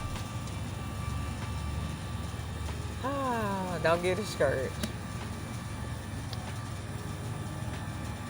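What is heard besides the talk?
air conditioner running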